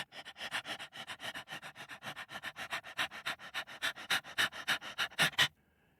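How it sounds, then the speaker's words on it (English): A dingo pants with its tongue hanging out to keep cool, a steady run of quick, fairly close sniffing breaths that builds slightly louder before stopping abruptly near the end. "A dingo came with a tongue long sticking out of its mouth, trying to keep cool."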